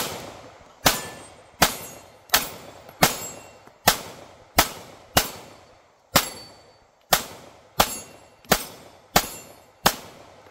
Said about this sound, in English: I've got one last magazine here to shoot kind of live action for you guys